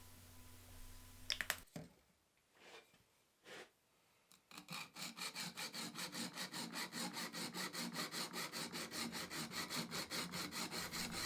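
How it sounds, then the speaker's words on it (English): Steel chisel back being rubbed by hand on an inexpensive honing stone wetted with honing solution, a few scattered scrapes and then a steady rapid back-and-forth rasping rhythm, close and alone. "I'm just grinding the first inch or two of the bottom on this stone."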